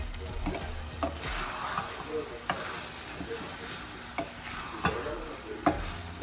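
Mutton palak simmering and sizzling in a pan on a gas stove, with steady low frying hiss, scraping spoon stirs and occasional sharp clinks against the pan.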